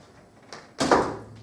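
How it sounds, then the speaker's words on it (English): A door swings shut with one solid, close thud, after a soft scrape or creak just before it. A little room sound lingers briefly afterward. "Then close the door."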